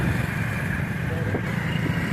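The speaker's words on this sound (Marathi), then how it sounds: "हर्षल भाई गाडी चालवत आहे" Steady road noise and engine hum inside a car driven on a smooth road, a constant broadband rumble with no breaks, close and fairly loud.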